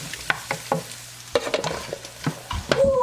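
Rice tipped into a hot pot crackles and sizzles, broken by several sharp scrapes and knocks of a spoon stirring it, close and fairly loud over about three seconds.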